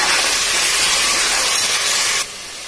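Ground onion, ginger and garlic paste sizzles in a hot pan for mint biryani, a loud, steady broadband hiss that drops sharply near the end, with no talk.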